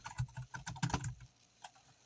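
Rapid clattering keystrokes on a computer keyboard, a quick burst of close taps followed by a pause and a single later click.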